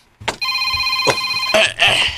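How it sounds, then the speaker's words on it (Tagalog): A cellphone ringing in a Filipino radio drama, a bright electronic ring tone sounding in repeated bursts, loud and close, with no talk over it. "Dahil may tingog na cellphone."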